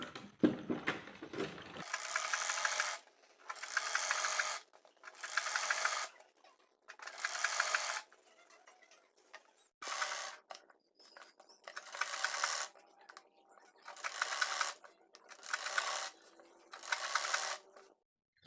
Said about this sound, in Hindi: अब हम पट्टी को इस तरह से कर कर यहाँ पर सीधी सिलाई कर देंगे